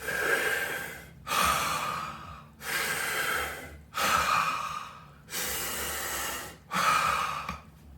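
Deep, forceful breathing exercise using full lung capacity: long rushing inhales and exhales alternate in a steady rhythm of about six breaths, close and loud with no speech.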